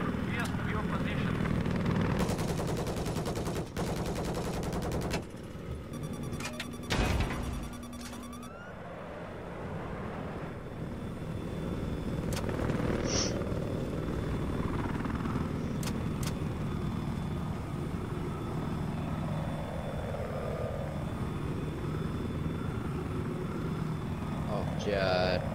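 A video game helicopter's engine and rotor drone steadily through the whole stretch, a continuous mechanical whir that swells and fades slightly, with players talking over it.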